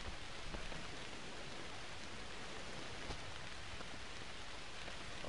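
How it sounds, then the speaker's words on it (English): Rain in a pirate video game, a steady dense hiss of falling rain that holds evenly from start to finish with no voices. "I think it's because of the rain."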